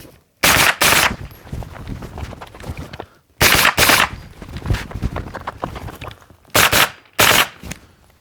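A pistol-caliber carbine firing 100-grain ammunition at a practice range cracks out in three quick pairs of loud shots separated by quieter gaps of shuffling and handling noise.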